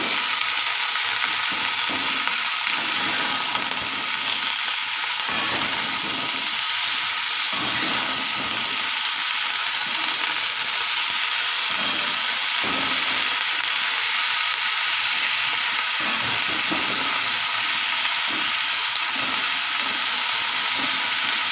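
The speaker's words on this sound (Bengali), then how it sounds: "এর ওপর আমি ফুলকপি যেগুলো কেটে ধুয়ে রেখেছি সেগুলো দিয়ে দিচ্ছি।" Washed cauliflower pieces sizzle and fry in an oiled pan with turmeric, a steady loud hissing crackle broken by occasional stirring scrapes.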